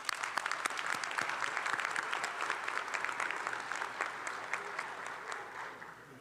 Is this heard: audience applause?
yes